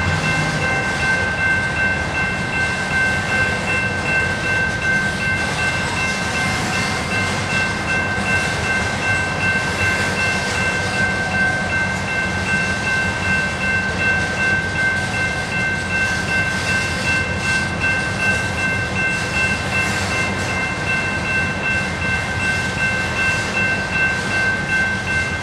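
Steady, loud rumbling of a Norfolk Southern coal freight train rolling past in Mableton, Georgia, continuous wheel and rail noise with no voices, holding at a constant level throughout.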